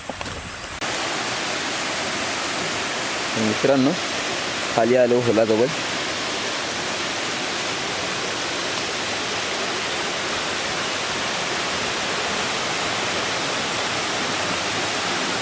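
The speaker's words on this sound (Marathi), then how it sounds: "खाली बघा, तुम्हाला आवाज येत असेल पाण्याचा." Water rushes steadily below a road near a hole or culvert, a constant broadband roar that runs the whole time, with someone speaking briefly over it early on.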